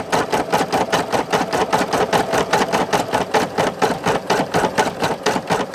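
An embroidery machine stitching satin-stitch patches runs in a steady, fast mechanical chatter of needle strokes, close and loud, continuing evenly without talk.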